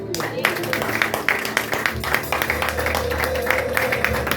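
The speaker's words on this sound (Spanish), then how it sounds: "¿Cuántos pueden darle ese aplauso al Señor?" A church congregation claps to give praise to the Lord, with a brisk run of rhythmic hand claps mixed with crowd murmur and voices talking over the applause.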